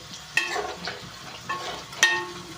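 Prawns frying in a pan with turmeric, a low sizzle broken by stirring strokes and two sharp clinks of a utensil against the pan, fairly close with no talk.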